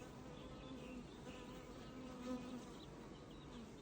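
Honey bees buzz steadily around a beehive where new queens are raising brood, giving a soft, continuous hum with faint rising and falling drones and no speech.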